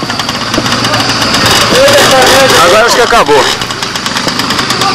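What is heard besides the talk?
motorcycle engine running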